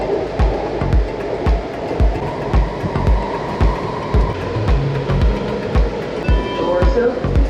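A commuter metro train running between stops toward Ashburn, steady rumble with rhythmic clickety-clack of wheels over rail joints, close and fairly loud throughout.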